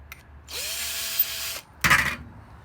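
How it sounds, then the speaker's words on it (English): Power drill whirring as it spins a brass rifle cartridge case for deburring during 7.7 Type 99 Arisaka case conversion: a steady high whine for about a second, then a short, louder burst of grinding and scraping. "I prefer to do it on the drill."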